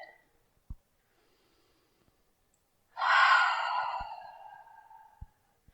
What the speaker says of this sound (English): Inhale through the nose. Open mouth, exhale.